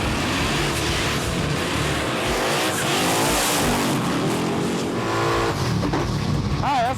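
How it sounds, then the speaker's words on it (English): A race car powered by a rebuilt junkyard LQ4 6.0L V8 does a burnout with radial tires, the engine roaring and revving loudly as the tires squeal and spin, close and continuous with voices mixed in. "one of the coolest things about racing, my favorite part, is the burnout."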